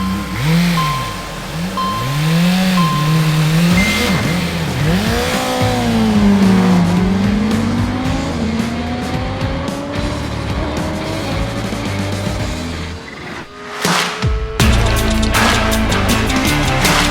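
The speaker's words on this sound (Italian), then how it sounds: "Siamo riusciti ad usare bene lo stacco della frizione e quindi la Kawasaki giustamente non ha alzato il pneumatico anteriore" A Kawasaki hypernaked motorcycle at a 2020 drag race launches off the line, its engine screaming loudly up through the gears with rising, falling pitch sweeps, then a harsh burst near the end, with no speech.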